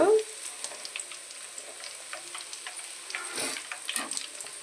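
Dried red chillies and other amla pickle ingredients fry in hot oil, giving a steady soft crackling sizzle with scattered pops and a brief louder spatter near the end, close by with no talking.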